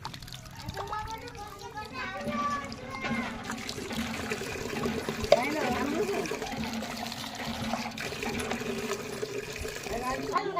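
Water runs steadily as children wash their hands as a hygiene habit, the trickle heard throughout beneath children's chatter.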